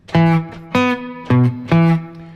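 Four short, clipped guitar notes are plucked in a choppy, staccato riff with brief gaps between each stab.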